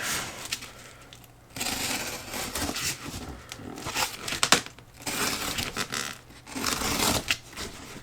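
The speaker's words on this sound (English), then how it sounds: "let's crack open some tape here and see what we got" Packing tape tearing and peeling off a cardboard box holding a Sebart Mini Avanti 1.36 m EDF/turbine model jet, heard as several close, loud ripping bursts separated by short pauses, with crinkling and rustling between them.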